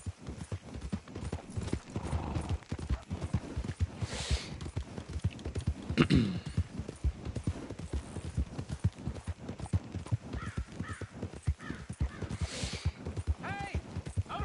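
A horse's hooves clip-clop at a steady walking rhythm in the Red Dead Redemption II video game, close and moderately quiet, with a few other small game sounds around them.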